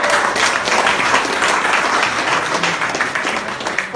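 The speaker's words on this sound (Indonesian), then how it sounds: "tepuk tangan dong Bapak Ibu" Seated audience at a talk claps in a sustained, loud, even burst of applause from start to end.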